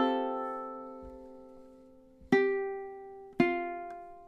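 Ukulele playing measure 6 of a song: a sustained strummed chord rings out and fades, then two more strums follow in time about a second apart. The chords are clear and close, with no voices.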